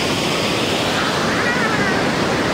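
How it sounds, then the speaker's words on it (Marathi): Water rushes at Girna Dam near Malegaon, a dense, steady roar of flowing water filling the whole moment, loud and continuous with no distinct breaks. "बघू शकता मित्रांनो पाण्याचा फ्लो"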